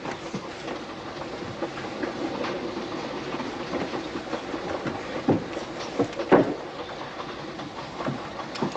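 A train runs on rails with a steady rumbling roar and scattered clanks and rattles of the carriages, fairly loud and continuous throughout.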